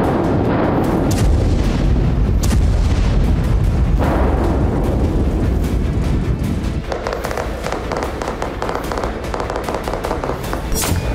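Heavy, continuous booming and crackling from IED explosions and fighter jet bombing during an Israeli army raid on Jenin, loud and dense with repeated sharp blasts over a rumbling roar.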